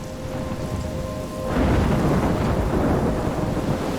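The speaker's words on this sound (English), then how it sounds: "I'm trapped in a storm?" Thunderstorm in the video game Life Is Strange: steady rain hiss that swells into a loud rumbling roll of thunder halfway through, with heavy rain continuing, no voices.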